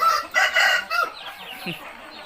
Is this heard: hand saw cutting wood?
no